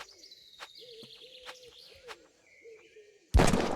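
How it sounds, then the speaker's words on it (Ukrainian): Birds calling in a quiet forest: soft repeated whistling notes and sharp chirps, ending with a sudden burst of loud rustling noise. "Пташки."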